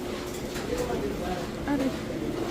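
Pigeons coo softly in a breeders' hobbyist loft, low murmuring calls scattered through steady room noise while people talk nearby.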